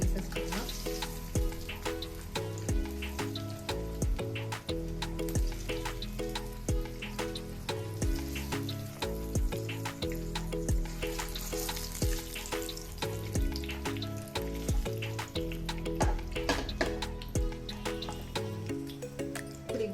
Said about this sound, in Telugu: ఆల్రెడీ ఎగ్స్ ఫ్రై అయిపోయినాయి. వన్ బై వన్ తీసేసుకుందాం.